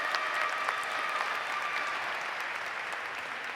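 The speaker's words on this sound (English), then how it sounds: "Tia certainly deserves another round of applause." Commencement crowd giving a student speaker another round of applause, a steady, moderately distant wash of many clapping hands with no pauses.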